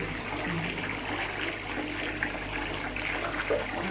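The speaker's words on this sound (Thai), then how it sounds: "นี่ก็ต้องระวังน้ำเข้าหู เข้าจมูก เราจะอาบด้วยความระวัง" Steady running water pours continuously while a cow is being bathed, a dense broad wash of flowing and splashing sound with no pauses throughout.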